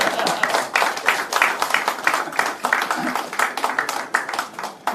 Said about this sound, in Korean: 의사 선생님 빼고 나머지 다 박수하면